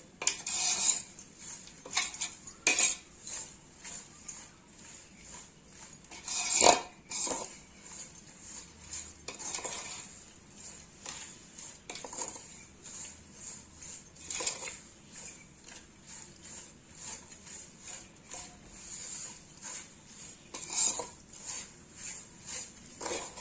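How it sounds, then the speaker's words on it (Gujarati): Herbs and desi spice mixture being stirred into oil for homemade herbal hair oil, with a metal spoon clinking and scraping against the vessel in irregular bursts over a quiet background. "હવે આને પ્રોપરલી મિક્સ કરવાનું છે તેલમાં, સરસ રીતે ભળી જાય એ રીતે"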